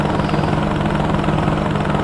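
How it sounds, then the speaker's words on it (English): Helicopter flying in the video game Homebrew Vehicle Sandbox, a loud continuous rotor and engine drone with a steady low thrum, close and unbroken, with no voices. "So yeah, this is the helicopter."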